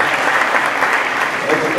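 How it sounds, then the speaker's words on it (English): Steady applause from a seated audience at a school parent education event, a dense even patter of many hands clapping close by with no voices on top. "Round of applause."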